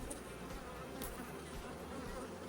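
Honey bees at an open hive during an inspection produce a steady, dense buzzing drone, faint but continuous, with no talking.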